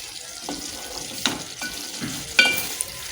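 Chana dal and potato gravy cooks in a pan in Agri Koli style, giving a faint, steady sizzle broken by a few soft clicks and scrapes from stirring, with no talking.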